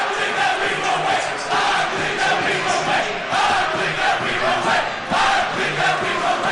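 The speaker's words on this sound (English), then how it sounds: "let's hear the fans cheer for a little bit" Soccer fans in Milwaukee cheer and chant in a large crowd, a dense continuous roar with rising and falling waves of voices, loud and sustained without a break.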